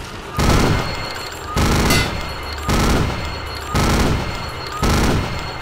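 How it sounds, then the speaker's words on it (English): Gunfire in a video game comes as five loud bursts of rapid shots, each lasting about a second, spaced roughly evenly with quieter gaps between them. "he was shooting at something"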